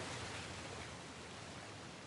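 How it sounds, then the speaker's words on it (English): A steady, dense rush of falling water from a waterfall in a video game plays alone at moderate level, a continuous broadband wash with no pauses or voices. "Another waterfall."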